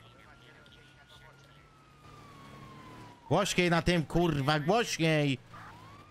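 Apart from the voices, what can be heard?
police siren of a car pulling them over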